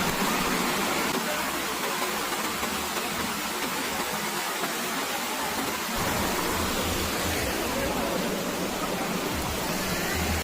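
Steady, loud rush of flowing water fills the whole stretch, a dense broadband roar from Seetharkund Waterfalls in Kollengode, Palakkad, with no voices.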